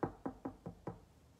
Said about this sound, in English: when there was a knock at the door